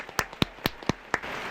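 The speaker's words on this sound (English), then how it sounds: "can I get a round of applause" A few slow, sparse hand claps, about five distinct sharp claps spaced unevenly over a second and a half, close and fairly quiet with no voices.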